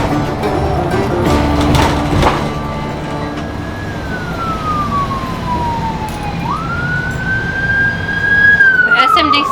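An ambulance siren wails with a slowly falling, then rising tone over steady traffic rumble, fairly loud and passing nearby, with some talk in the background.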